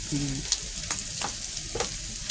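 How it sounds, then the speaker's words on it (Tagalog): Garlic, onion and pork belly sauté in a pan for pakbet, a close, steady sizzle with a few scraping stirs and clinks of a utensil, with no voices. "Ginisa ko na ang bawang at sibuyas with pork belly."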